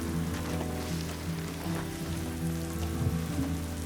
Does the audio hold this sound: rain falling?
yes